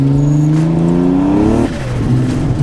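A drag race car accelerates hard, its engine climbing in pitch through a loud, close wail before an abrupt drop as it shifts and pulls on at a lower note, with no voices.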